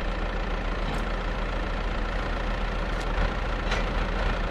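Tractor engine in Farming Simulator 22 runs with a steady, loud rumble and broad noisy roar, continuous and unchanging in level, with no voices over it.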